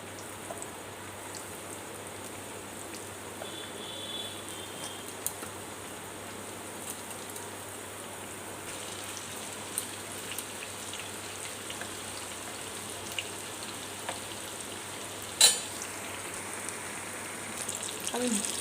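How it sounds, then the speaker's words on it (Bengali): Pieces of brinjal fry in oil in a pan, a faint, even sizzle with small scattered pops and one sharper crackle near the end, heard alone without talk. "আমি বেগুনটাকে পুরো লাল করে ভেজে নেব।"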